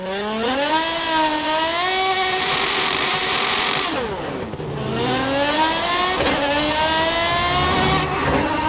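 A performance car engine in Forza Horizon 5 revs hard and loud, its pitch climbing through the gears, falling away with each shift, then climbing again, steady and close with no talk.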